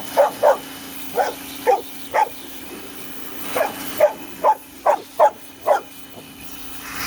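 A dog barks repeatedly beside a pressure washer during an old WW2 Homelite generator engine restoration, about a dozen sharp, fairly close barks in quick bursts over a steady low engine hum.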